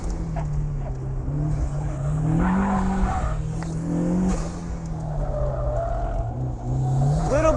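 Turbocharged Mazda Miata on a race track, engine droning and rising through acceleration with shifting pitch, close and loud, joined by brief tire squeal and road roar.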